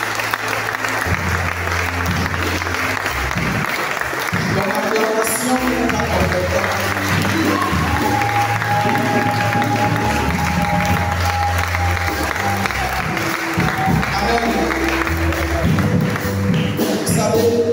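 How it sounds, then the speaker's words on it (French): A church congregation at a midday prayer session applauds and cheers for Jesus, with sustained loud clapping and crowd noise throughout and music or voices blended underneath. "Est-ce qu'on peut acclamer pour Jésus?"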